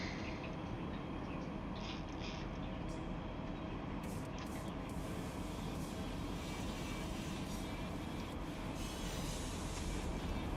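A long train rolls past in the Run8 train simulator game, a steady dense low rumble of wheels and cars holding at an even level throughout, with occasional higher squeals and no talking.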